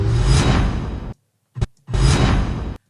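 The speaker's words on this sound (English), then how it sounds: "I like to use my dramatic whooshes from my own personal sound effects pack" Two dramatic whoosh sound effects from a commercial edit, each a loud, full broadband sweep lasting about a second, separated by a short gap with a brief burst between them; no talking.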